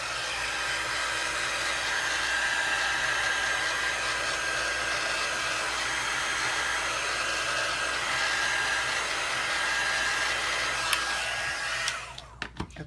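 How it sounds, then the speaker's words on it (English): A handheld heat tool blows hot air over Distress Ink in a steady, even whoosh that runs without a break, then cuts off near the end and leaves a few faint clicks. "And I do heat it with a heat tool in between each process"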